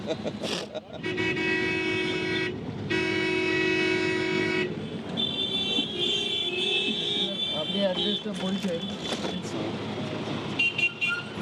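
Busy Kolkata street noise with repeated car horns honking, some long and blaring, over a steady traffic rumble and background voices.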